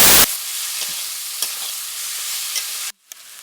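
Potatoes and mushrooms sautéing in a pan with steady broadband sizzling, a few soft stirring knocks, then a sudden drop to near silence near the end.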